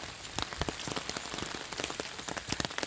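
Rain pouring down on a farm, a constant hiss of falling water punctuated by close, crisp drips and taps.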